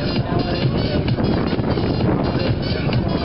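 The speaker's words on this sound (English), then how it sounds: "look at that wind going there" Strong gusty wind buffeting the microphone outdoors at a dirt bike show, a loud, continuous low rumble and roar filling the whole clip with no clear pauses.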